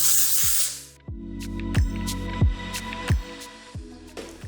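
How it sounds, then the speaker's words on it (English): Amika Undone Volume and Matte Texture Spray hisses onto hair in one long burst, followed by a string of short, evenly spaced thumps and clicks from handling the can and brushing through. "I'm gonna begin by putting a little bit of a texture spray in her hair"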